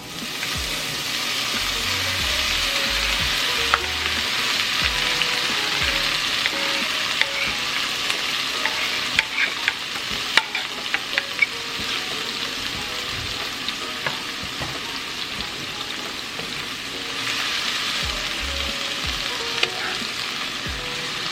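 Beef meatballs fry in hot extra virgin olive oil in a pan, a continuous close sizzle with scattered pops and occasional scrapes and knocks as they are turned, steady throughout.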